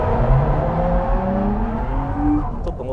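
A car being drifted on a driving course with the accelerator held down, engine revving steadily and loud throughout, its pitch shifting up and down as the rear slides.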